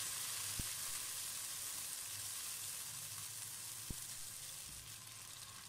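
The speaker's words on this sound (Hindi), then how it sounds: "चार से पाँच मिनट के लिए मैं इसे फ्राई करूंगी।" Onion paste for chicken korma sizzles and fries in a pan, a steady close crackle with a couple of sharp pops and no talk.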